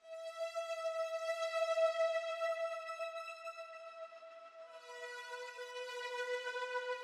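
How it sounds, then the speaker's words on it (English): A soft, sustained synth string pad holding a smooth chord, then sliding to a new chord partway through, quiet and alone. "It's a string pad."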